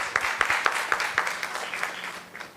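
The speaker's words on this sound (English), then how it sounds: "the clap should be a little louder" Audience clapping at a medical college event, a loose patter of distinct hand claps from a moderate crowd, fairly soft and slightly distant, thinning out toward the end.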